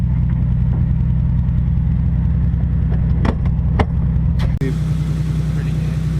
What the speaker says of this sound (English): Out here drifting better than any day anywhere else